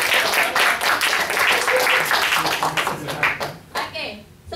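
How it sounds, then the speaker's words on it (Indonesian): A group, likely a class, claps loudly and briskly in rapid bursts, then the clapping fades out over a few seconds as voices rise beneath it. "Tepuk tangan dulu dong."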